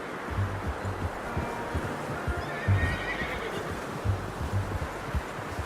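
A horse in the video game Red Dead Redemption 2 gives a long whinny over heavy, rhythmic hoofbeats and low rumbling movement, loud and close throughout.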